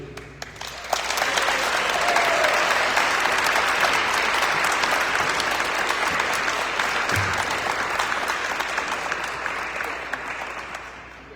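An audience at a community awards event gives long, loud, steady applause for a lifetime artist award recipient, dense clapping that swells and then slowly tapers off.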